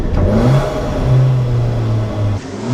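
A Volkswagen Golf MK7 1.8 TSI with a carbon fiber air intake revs up and holds, a steady whirring turbo tone riding over the growl, close and loud.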